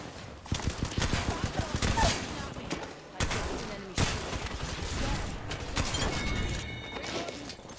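Rapid gunfire bursts from an Apex Legends firefight, loud and dense throughout with sharp onsets and brief gaps between volleys, under the noise of battle.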